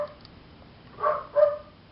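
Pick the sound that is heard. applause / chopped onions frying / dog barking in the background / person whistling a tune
dog barking in the background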